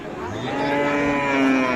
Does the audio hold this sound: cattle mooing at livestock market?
yes